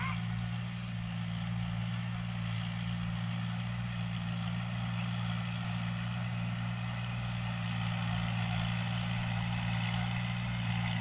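Two farm tractors running in a field, a steady low engine drone with a strong rumbling hum throughout, moderately near, with faint background sound above it.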